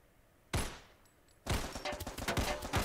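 Gunfire in the Crisis VRigade 2 VR shooting game, with one sharp shot followed by a dense, rapid burst of repeated shots, loud and close, with no talking.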